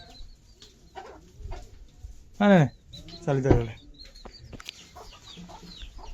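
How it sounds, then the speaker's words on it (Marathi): Chickens cluck in two loud, close bursts in a cowshed at an old Konkan village house, amid a quiet farmyard background, with a person speaking briefly nearby. "हो इथे कोंबडे आहेत"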